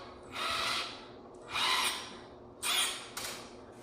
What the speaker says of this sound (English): or just a drill driver's fine too.